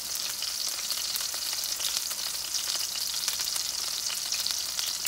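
Steak sizzles in real butter in a cast iron pan, a dense, steady, crackling hiss close by with no break and no voices.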